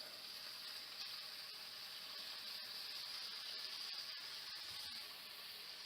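Bacon fries in a pan with a faint, continuous hissing sizzle and scattered tiny pops and clicks, steady throughout with no voices.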